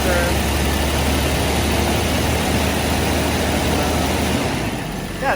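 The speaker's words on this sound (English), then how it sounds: "I'm also gonna, hold it up a little bit at different revs, so it warm up a little bit faster" A classic V12 car engine runs steadily with a dense, continuous low rumble held at slightly raised revs, loud and close throughout, easing off a little near the end.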